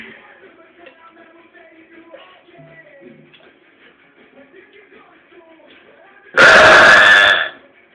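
A woman lets out one loud, long burp of about a second, close up, after a stretch of faint background murmur.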